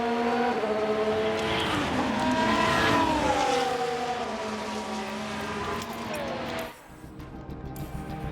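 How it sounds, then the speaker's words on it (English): F1 race cars overtaking in the video game F1 Manager 2023, with loud engine whine rising and sweeping in pitch as cars pass close by, then cutting off abruptly near the end. "And with the DRS, he's going to say thank you very much to Checo as he flies through once more"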